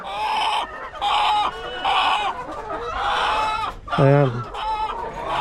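Chickens in a coop cluck repeatedly and loudly at close range, one giving a drawn-out squawking call, while someone speaks briefly.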